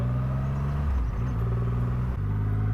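A Triumph Rocket 3 R 2500cc motorcycle engine idles with a deep, steady rumble, briefly blipped twice with light throttle, each a quick swell and settle, close and loud with no talk.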